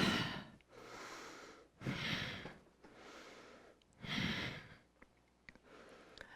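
Slow, deliberate exhalations during a yoga HIIT workout come in soft, breathy waves, three longer breaths spaced a couple of seconds apart with quieter breathing between, close and gentle.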